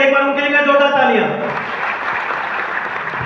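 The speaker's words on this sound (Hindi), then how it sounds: "एक बार उनके लिए जोरदार तालियां।" A voice speaks briefly, then a crowd bursts into steady, loud applause that continues to the end.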